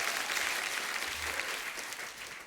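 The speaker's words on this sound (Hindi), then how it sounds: "जोरदार तालियां" A dense burst of audience applause, steady and loud throughout, tapering slightly at the end.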